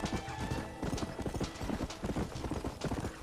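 Horse galloping in the game Red Dead Redemption, a fast steady drumming of hoofbeats, close and even throughout, with no talk over it.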